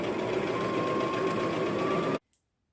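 Sewing machine zigzag stitching a seam on a T-shirt, a steady close mechanical whirring hum that runs evenly for about two seconds and then stops abruptly.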